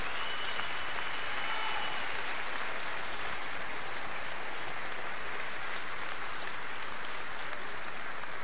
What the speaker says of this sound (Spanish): para quien quiero yo pedir el más sonoro de los aplausos